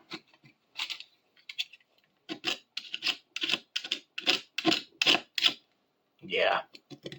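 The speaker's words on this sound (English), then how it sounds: "See about scraping a bit more of this black off." Black paint being scraped off a clamp vise during restoration, heard as a run of short, close, gritty scraping strokes in a steady rhythm, with small pauses and one longer drawn-out scrape near the end.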